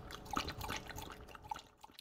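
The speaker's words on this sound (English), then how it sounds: "she sent the sound of her dog Roxy drinking water" A dog laps water from a bowl, a quick run of soft wet slurps and drips, quiet and close with no talking.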